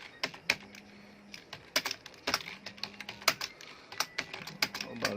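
Typing on a computer keyboard during speed-typing practice, repeating a pangram line over and over: a quick, irregular run of sharp key clicks with short pauses between bursts, close and alone.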